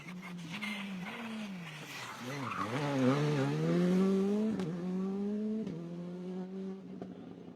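A rally car on a morning shakedown stage, its engine note holding steady, then rising and swooping with throttle changes as it slows and weaves, with a couple of brief gear-shift dips; the car sounds fairly near and dominates throughout.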